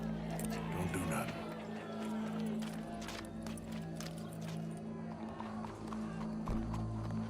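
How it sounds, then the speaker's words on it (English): A horse's hooves clip-clop at a walk and trot in the Red Dead Redemption 2 video game, steady and fairly close, layered over game ambience and crowd murmur while people talk. "Go brush that horse, officer."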